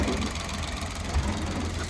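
A 2019 car engine idles nearby with a steady low hum and faint mechanical ticking, one brief thump partway through, no talking.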